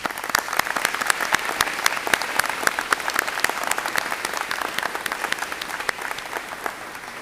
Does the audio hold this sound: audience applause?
yes